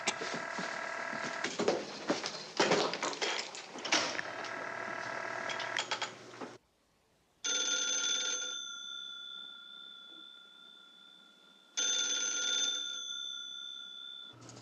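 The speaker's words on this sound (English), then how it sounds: "Answer your phone, Blondie." An old-fashioned telephone bell rings in long, loud bursts, a first stretch with clattering noise, then a short pause, a steady ring, another pause and a final ring, with no talking.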